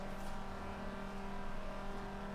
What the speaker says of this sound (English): you hear that the car is struggling to rev because we've shifted fairly early there